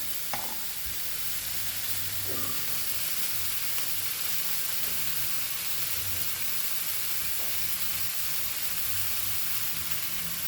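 Onion and tomato fry with spices in a pan for a Goan pork chilli fry, giving a steady, continuous sizzle and hiss with occasional stirring scrapes, close and even throughout, with no talking.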